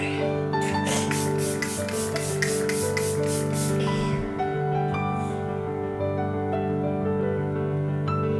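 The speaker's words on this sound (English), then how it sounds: "And last round of setting spray." A quick series of about ten short bursts of makeup setting spray in steady rhythm, heard over a constant background tone.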